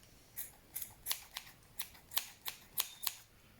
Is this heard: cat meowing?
no